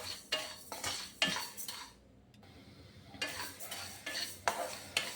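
Rice roasts dry in a pan over very low heat while a spoon scrapes and stirs it, giving repeated close, gritty scraping strokes with a short pause in the middle.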